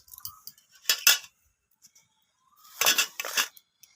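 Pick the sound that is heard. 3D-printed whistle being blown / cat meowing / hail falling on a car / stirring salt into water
stirring salt into water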